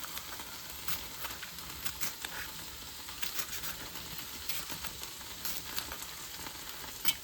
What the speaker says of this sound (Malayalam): ഇനി പച്ചമുളക് എന്നാൽ നീളത്തിൽ ഇങ്ങനെ ഇട്ട് കൊടുക്കാം.